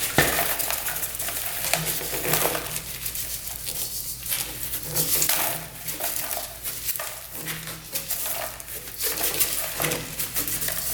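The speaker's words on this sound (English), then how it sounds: "See how much rust comes out of this thing." Loose rust pouring out of a motorcycle fuel tank, with a continuous gritty pattering and rattling of flakes and grains, fairly close and steady, without speech over it.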